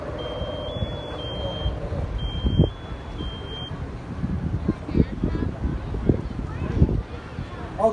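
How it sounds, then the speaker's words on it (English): A firefighter's air pack motion alarm on a breathing apparatus sounds a series of loud, shrill, rising beeps for about four seconds in a fire-damaged room, followed by clattering and rustling noise. "What you hear is the sounds of our air pack on our back."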